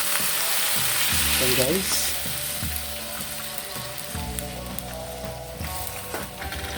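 Meat sizzles loudly in a pan for watermelon sinigang as boiling broth is poured in, a steady frying hiss with stirring clatter, while a voice speaks briefly over it.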